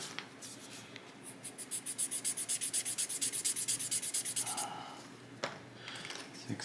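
Rhythmic back-and-forth strokes of 400 grit sandpaper smoothing a small part of a 1/350 scale USS Missouri model, close and fairly soft, about twenty quick even rubs followed by a few faint handling sounds.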